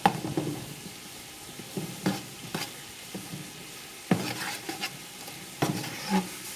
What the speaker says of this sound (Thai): ก็เคี่ยวน้ำตาลไปเรื่อย ๆ ค่ะ เคี่ยวน้ำตาลให้เขาละลายไปเลย